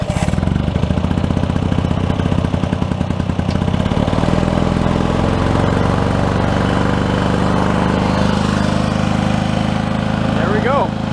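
The engine of a 1965 Lawn-Boy C-19 commercial lawn mower pops and stutters as it starts, then settles into a loud, even, buzzing run close by.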